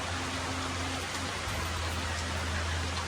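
Steady rain hisses evenly throughout, a dense wash of falling drops with a low hum underneath and no talking.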